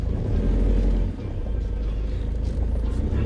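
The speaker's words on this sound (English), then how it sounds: "So I'll squeeze on drive now between all these parked cars." A van drives slowly between rows of parked cars, its engine giving a low, steady rumble heard from inside the cab, with a slight dip in level partway through.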